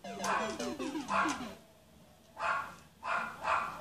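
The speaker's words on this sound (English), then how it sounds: "That's the sound of my dog constantly barking." A house dog barks in clusters of yips and whimpering barks, near and fairly loud, with a brief lull mid-way and video game music playing underneath.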